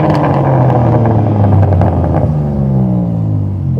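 A BMW M4 Competition with quad tailpipes revs loudly up close, a deep rumbling engine climbing in pitch, holding, then dropping as the revs fall away and settle toward idle.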